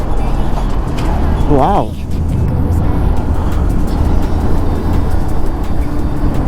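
Dense highway traffic roars around a Ray Z scooter as it overtakes a truck on an expressway near Kolkata. The rush is steady and loud, and a rider's brief exclamation cuts through midway.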